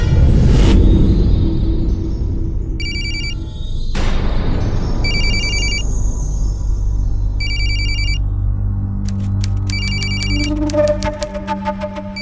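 A telephone rings in repeated short electronic trill bursts, separated by brief pauses, over a low rumbling dramatic background with a couple of sharp whooshing hits.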